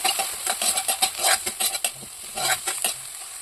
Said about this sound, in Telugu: ఉల్లిపాయ ముక్కలు పచ్చిమిర్చి వేసుకొని వేగిన తర్వాత అల్లం వెల్లుల్లి పేస్ట్ వేసుకొని వేయించుకోవాలి